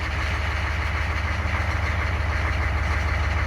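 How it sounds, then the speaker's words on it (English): An old diesel engine idling steadily after a cold start with glow plugs, a loud, close, even low throb with a constant mechanical rattle and no voices. "This is my first cold start too. Glow plugs, fuel, new fast systems pumping up."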